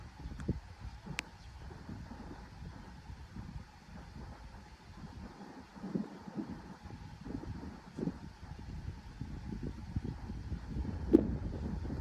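Steady wind buffeting a microphone at a long-range rifle shooting range, a low continuous rumble with occasional gusts and faint clicks, no voices.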